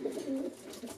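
A young pigeon coos softly and close by, a brief low throaty warble lasting about a second with no voices over it.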